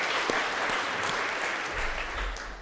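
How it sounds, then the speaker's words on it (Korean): A congregation applauds steadily at a New Year's Sunday church service, a dense wash of clapping from many hands that carries on throughout at moderate volume. "우리 큰 박수를 한번 부탁드리겠습니다."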